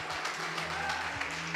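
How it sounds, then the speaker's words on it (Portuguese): Applause from a church congregation during a Portuguese-language sermon, a dense, continuous patter of many hands clapping throughout, moderately loud with faint voices mixed in. "Ei, aplaude ele mesmo."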